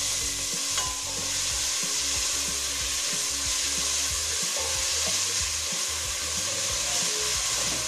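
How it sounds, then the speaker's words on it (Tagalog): Tomatoes fry in oil in a pan, giving a steady close sizzle throughout, with occasional stirring scrapes. "Hintayin po natin maluto ng todo ang ating kamatis, yung po nagmamanti-mantika"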